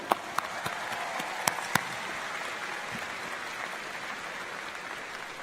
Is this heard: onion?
no